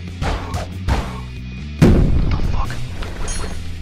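Gunfire in the Roblox game Pilgrammed: a few heavy, booming game gunshots, close and loud, with the sharpest blast near the middle and a rumbling tail.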